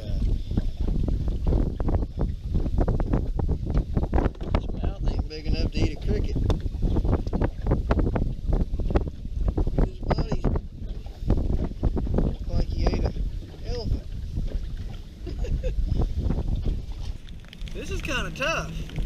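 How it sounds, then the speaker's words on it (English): Strong wind by the St. Lawrence River in New York buffets the microphone in loud, ragged gusts that rumble almost without pause, while a person talks over it. "It's really windy."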